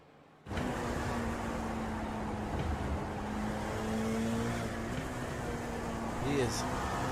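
LMP2 and GTE race cars in iRacing at Circuit of the Americas, a loud engine drone starting suddenly and holding steady, pitch shifting as cars pass near, with a commentator talking over it.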